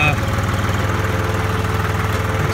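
A tractor with a loader, jackknifed on an embankment, runs close by, a steady, loud, pulsing diesel chug with no letup.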